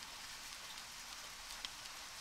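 Soft, even hiss of steady rain falling in the video game Deadly Premonition, continuous and fairly faint, with an occasional brighter drip.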